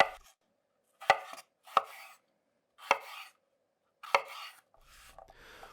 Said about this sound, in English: we're going to chop our potatoes into bite-sized pieces